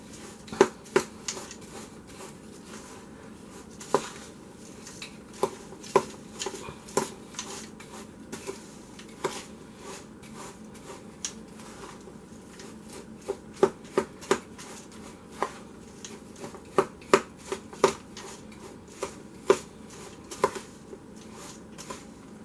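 A homemade granola mixture is stirred in a bowl, with a spoon giving irregular, sharp clacks and scrapes against the sides, close and fairly quiet, repeating unevenly throughout with no talking.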